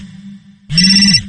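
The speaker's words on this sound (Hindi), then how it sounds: "थोड़ी ही देर के बाद बर्नाडेट का फोन बजा।" A mobile phone set to loud mode rings out abruptly after a faint low hum, a bright electronic ringtone tone held steadily and close for about half a second.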